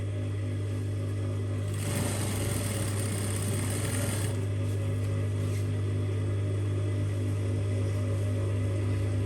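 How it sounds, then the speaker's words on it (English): A sewing machine stitches a seam on a zipper-less cushion with a steady, close motor hum that swells into a brighter whirring run for a couple of seconds before settling back. "So let's take this to the machine and stitch it."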